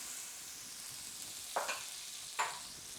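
Onions going into a pan of melted butter and olive oil, giving a steady close hiss with two brief louder bursts of sizzling as they hit and settle; no talking.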